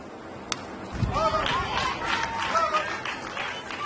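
Crowd at a Little League Softball World Series game, Connecticut vs Italy, with steady broad cheering and applause building from about one second in, a sharp knock near the start, and an announcer talking over it.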